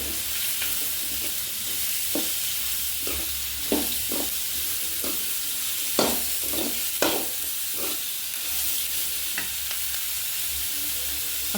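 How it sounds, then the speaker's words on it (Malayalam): Sliced onions and curry leaves sizzle steadily in coconut oil in a pan, with a spoon scraping and stirring in intermittent strokes over the constant frying hiss, close and fairly loud, no voices. "നമുക്ക് നന്നായിട്ട് മിക്സ് ചെയ്ത് സവാള മൂപ്പിച്ചെടുക്കാം"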